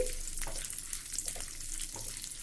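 Chana dal frying in oil on a low flame for peanut chutney, a soft, close sizzle with scattered light crackles and an occasional stir, steady and unaccompanied.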